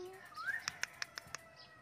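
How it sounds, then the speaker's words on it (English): A parrot gives a rising whistle, then a quick run of five sharp, evenly spaced chirps, close and clear over a quiet background. "P for parrot."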